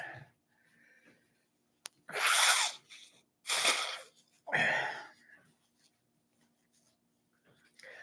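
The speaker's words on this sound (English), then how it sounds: "I wake up. I start sneezing." A person sneezes three times in quick succession, loud and close, each burst preceded by a sharp intake of breath, with quiet pauses between and no talking.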